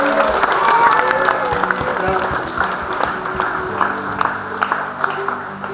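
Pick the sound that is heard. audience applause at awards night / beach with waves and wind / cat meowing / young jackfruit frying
audience applause at awards night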